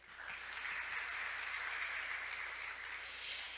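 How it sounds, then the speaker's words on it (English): Steady audience applause follows a presentation at a Korean maritime week conference, a dense, even wash of many hands clapping at moderate volume, heard from a distance across the hall. "Let's give Mr. Oftedal another big round of applause for that presentation"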